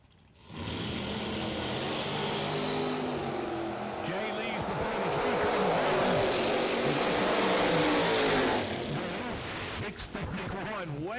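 A 1967 Camaro and a 1977 Camaro racing at a drag strip event, with loud engine roar building and sweeping past as the cars launch and run, under continuous announcer talk.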